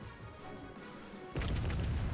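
A battleship's cannons fire in World of Warships Legends, a deep, loud boom bursting in about two-thirds through over a continuous rumbling battle backdrop.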